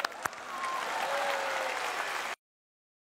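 Wedding guests applaud in a church nave, a steady wash of many hands clapping at moderate distance that cuts off abruptly.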